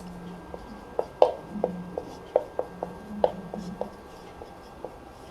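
A pen writes on paper in short, sharp strokes and taps, fairly close and clear, with a few irregular bursts spread over several seconds and no talking.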